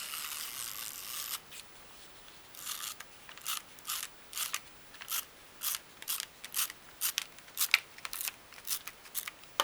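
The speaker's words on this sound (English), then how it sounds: "I'm going to tape it." Sticky tape is pulled and pressed onto a folded paper card, heard as a close run of short ripping and crinkling bursts that come faster and more regular toward the end.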